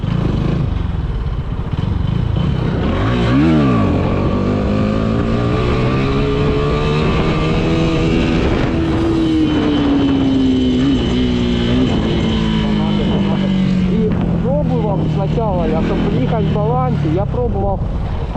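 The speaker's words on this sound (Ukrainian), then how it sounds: "Я як вижимаю сцеплення, беру точку, на якій мотоцикл самий резвий." A motorcycle engine revs up and down repeatedly, its pitch rising and falling in sweeps, close by, with someone talking over it.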